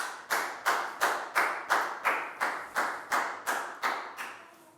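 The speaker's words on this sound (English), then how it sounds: "High five and a big round of applause for Prel" A primary school class claps for a pupil in a synchronized rhythm, about a dozen evenly spaced collective claps, close and crisp, with no talking.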